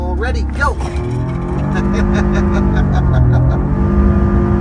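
Karma GS-6L range-extended electric sedan launching hard from a standstill in sport mode with launch control, a rising drivetrain whine building steadily under excited voices in the cabin.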